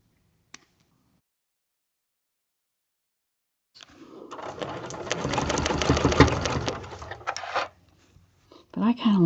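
A sewing machine stitches fabric for a log cabin quilt block: a steady, fast mechanical whir running for a few seconds after silence and a faint click, then stopping, with a voice starting at the end.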